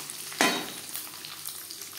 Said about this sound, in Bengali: 15-20 সেকেন্ড 5 ফোড়ন ভেজে নেওয়ার পর দিয়ে দেবো নারকেল কুচি